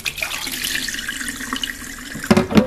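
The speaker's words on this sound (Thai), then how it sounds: "เอาแบบว่าพวกแป้งพวกอะไรออกปนข้าวสกปรกทั้งหลาย ก็ล้างอย่างนี้ซาวซักสองครั้งเนาะ" Rice rinsed in water in a sink, with a running tap stream and soft swishing throughout, ending in a couple of louder splashes.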